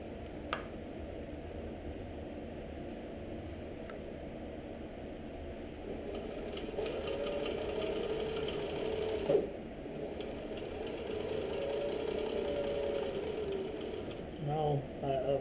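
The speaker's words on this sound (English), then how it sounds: "We're just going to sew up this other side here," A sewing machine stitches the side seam of a backpack, its steady whirring running for much of the stretch at moderate, close level over a constant low hum.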